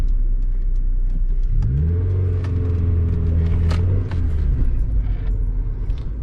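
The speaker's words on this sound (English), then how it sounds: "Exhaust sounds decent as well." A 2002 Mazda MX-5 NB 1.6 with a Cobalt back box revs hard, its exhaust note rising in a strong sweep then dropping back to a loud, close rumble with no talk.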